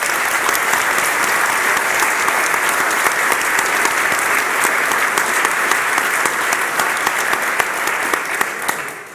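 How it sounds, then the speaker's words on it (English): An audience at an opening event applauds, a dense, steady wash of clapping from many hands that holds even and loud throughout, fading only at the very end. "everyone give them a big round of applause."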